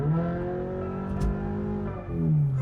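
A Toyota GR86 fitted with an AWE Touring catback exhaust revs at close range, a rich steady engine tone climbing and dipping with throttle, with no talking over it.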